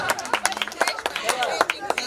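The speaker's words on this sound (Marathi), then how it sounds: "त्यांच्यासाठी जास्त जोरदार टाळ्या वाजवा" Guests at a wedding sangeet clap in scattered, uneven bursts close by, the claps mixing with voices talking through the crowd.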